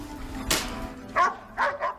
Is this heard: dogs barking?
yes